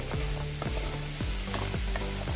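Chicken and vegetables sizzle in a pan over a medium flame while being stirred, with repeated scraping strokes sweeping through the steady frying hiss, up close and clear.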